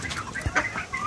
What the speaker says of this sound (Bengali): আরও খুবই খুবই পাওয়ারফুল একটা মোরগ